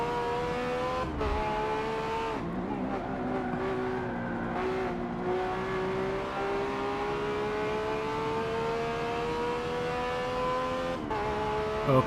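A Lamborghini Aventador SV screams through a hot lap in the Forza racing game, its engine holding a loud, rising high-pitched wail with brief gearshift dips and short tire squeals, continuous throughout.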